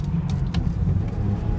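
A vintage long-nose Saab two-stroke with a jerky throttle fault drones steadily from inside the car, a loud, close engine rumble with a few faint clicks and rattles over it.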